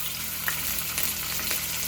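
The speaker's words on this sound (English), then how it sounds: "I'm going to start putting my chicken in, and you want to hear a nice sizzle." Steady, crackling sizzle of chicken frying in hot oil, close and continuous, with scattered pops and spits throughout.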